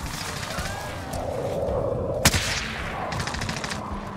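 Gunfire in the Warzone video game, a single sharp report standing out against steady game ambience, with faint rapid popping further off.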